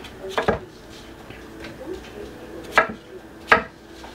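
A knife cuts potatoes into chunks for kebabs on a board, three sharp, separate chops at uneven intervals over quiet background rustling, close by with no speech.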